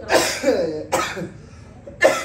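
Three harsh coughs in quick succession, close to the listener, with brief pauses between them and no talking.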